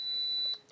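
A Paradox security alarm system gives off a steady high-pitched electronic beep that holds for about half a second, then breaks off into short, fainter chirps. The sound is close and clear, with no voices.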